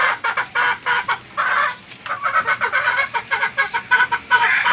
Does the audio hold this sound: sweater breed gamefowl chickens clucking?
yes